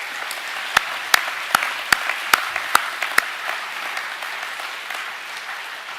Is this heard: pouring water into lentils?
no